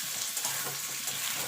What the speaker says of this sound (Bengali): এর সঙ্গে আলুটাও একটু ভাজা ভাজা করে নেব।